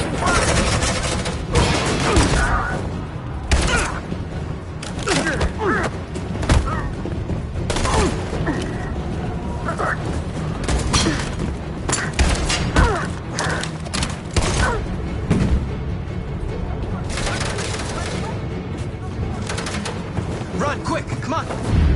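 Sustained gunfire and explosive booms in a PS4 war video game: overlapping volleys, heavy impacts and crashes rolling on throughout, with voices shouting over the combat.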